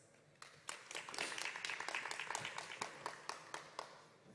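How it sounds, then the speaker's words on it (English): A graduation audience gives a big round of applause, dense overlapping clapping that builds quickly and holds steady for several seconds at moderate distance, with sharper individual claps standing out. "Please stand and join me in a big round of applause"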